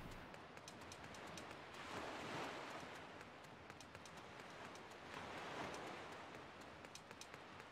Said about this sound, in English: Ganondorf runs along ocean rocks while ocean waves play in the background.